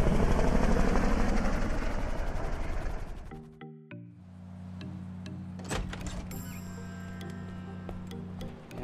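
A helicopter in the video game GTA Online lifts off during a heist getaway, its steady rotor drone and engine whine taking over after a loud burst of game action cuts away, with no voices.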